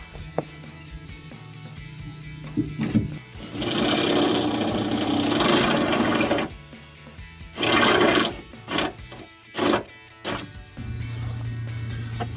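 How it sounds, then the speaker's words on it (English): A power drill bores a hole through the trunk lid of a 2015-2023 Mustang while fitting a Track Pack-style rear spoiler. One long, loud, steady whirring run is followed by several short bursts, with a low hum in the quiet gaps. "Careful not to drill through your trunk into the other side."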